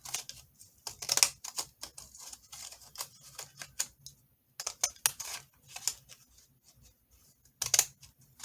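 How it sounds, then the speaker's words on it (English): Scissors snipping off the edges of paper for a handmade fall journal, a series of short crisp cuts with bursts of snipping and brief pauses, close and fairly quiet. "So I'm cutting off the edges"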